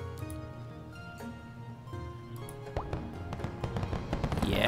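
Fireworks going off in the Glittermitten Grove video game: a run of soft pops and crackles over a steady tonal game soundscape, growing busier and louder toward the end, with a rising whistling burst near the close.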